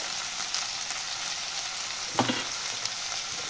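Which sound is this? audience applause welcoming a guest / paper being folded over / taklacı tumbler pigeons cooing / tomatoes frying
tomatoes frying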